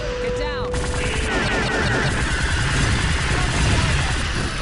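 Rapid sustained weapon fire from the Star Trek Elite Force video game, a dense continuous volley of shots with bursts and crashes running throughout, loud and close over busy game effects.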